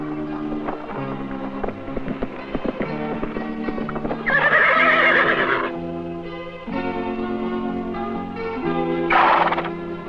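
A roughly 1,000-pound stunt horse's hooves clip-clop close by, broken by two loud, rough neighs, with light wind noise in the background.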